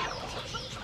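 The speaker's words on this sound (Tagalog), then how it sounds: "Ayan, ang daming mga daming manok." Several chickens cluck together on a farm in a busy, steady chatter, a dense flock sound with no talking.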